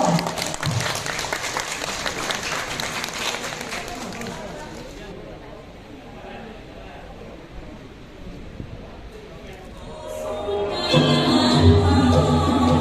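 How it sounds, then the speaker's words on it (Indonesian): A crowd claps loudly for several seconds after a Surabaya joget dance performance at a village election-awareness event, the applause fading into murmuring background noise before a second burst of clapping and voices rises at the end. "Kami tepuk tangan untuk tari joget Surabaya."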